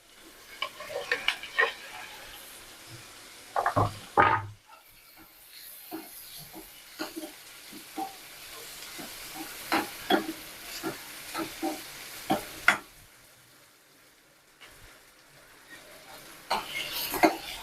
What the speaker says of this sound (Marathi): टमॅटो, कांदा व्यवस्थित होऊ द्यायचा. टमाटर त्यातला नरम पडू द्यायचा.